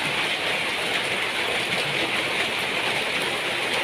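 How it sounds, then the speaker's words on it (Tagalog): Heavy rain pours in a dense, continuous hiss, loud and steady throughout with no voices, during a thunderstorm. "ang lakas ng ulan"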